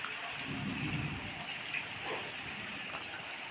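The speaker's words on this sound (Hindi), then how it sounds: "इतना तेज बिजली कड़क रहा है ना" Heavy rain pours as a steady, faint wash of hiss with a low rumble of thunder underneath, heard without any talking.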